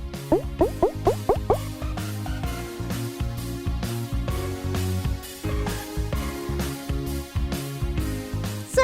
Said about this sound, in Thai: น้ำไหลออกมาได้จริงๆด้วย